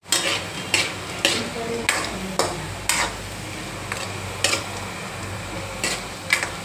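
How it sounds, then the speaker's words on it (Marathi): Modaks frying in oil in a pot for a large festival batch, with a steady background sizzle under regular sharp scraping and clinking of a utensil against the pan roughly every half second. "हे तळून चालले, हे तळून झालेले आहे"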